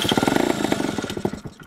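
A Honda Gyro scooter engine cranks over with a quick, rhythmic chugging that sputters as it nearly catches, close and moderately loud, fading out after under two seconds.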